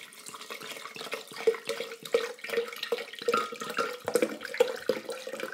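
Water is poured from above into a blender holding soaked almonds. It makes a light, splashy trickle, broken by small bubbling plops and drips, fairly quiet and continuous for several seconds.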